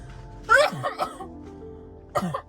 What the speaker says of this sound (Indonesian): Aku batuk dulu